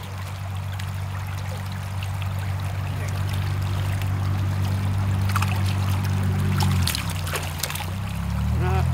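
Creek water flows steadily and close by in a shallow stream where dying trout float, a continuous rushing trickle with a low rumble underneath.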